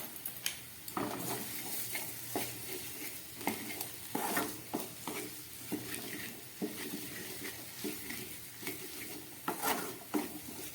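A vegetable curry is fried in a pan while a spatula scrapes and knocks against the metal in an irregular rhythm over a soft, low sizzle, close by with no speech.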